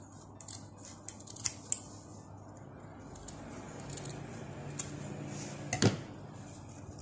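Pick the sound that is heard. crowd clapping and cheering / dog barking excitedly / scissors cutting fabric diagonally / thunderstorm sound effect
scissors cutting fabric diagonally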